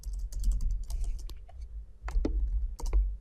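JavaScript code typed into a browser console on a computer keyboard: close, crisp bursts of key clicks in quick clusters separated by brief pauses, with no talking.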